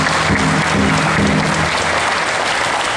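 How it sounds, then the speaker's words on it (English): Audience applause at an eighth-grade promotion ceremony, a dense steady wash of clapping from a large crowd that fills the full three seconds at an even level. "Let's give these young people a round of applause."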